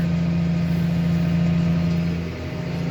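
A New Holland tractor engine runs at low, economical revs while driving a slurry mixer through its PTO, producing a loud, close, steady low drone with a constant hum that eases slightly near the end.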